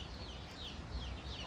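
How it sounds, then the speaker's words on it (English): A flock of about 50 baby chicks chirps and clucks in a steady, busy chorus, fairly faint and with no talking. "Look at all these baby chickens here."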